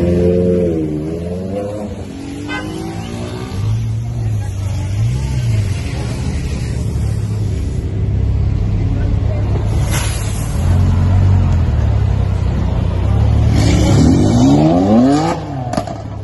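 White BMW M4 drifting sideways on a city avenue, a loud engine revving and droning steadily with rising and falling pitch, surging near the end as it slides past, with faint voices in the background.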